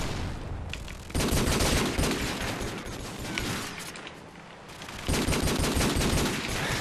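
Sustained automatic gunfire crackles through a Call of Duty 4 free-for-all match on the Backlot map, dense bursts at moderate volume with a brief lull midway before the shooting resumes hard.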